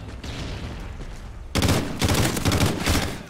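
Rapid gunfire from a weapon in the Call of Duty: Ghosts multiplayer on Xbox 360, with a steady rattle that turns into a loud, dense fusillade of shots halfway through.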